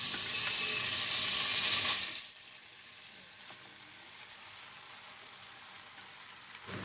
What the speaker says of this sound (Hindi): मैक्रोनी को हमें थोड़ी थोड़ी देर में अच्छे से चलाते रहना है।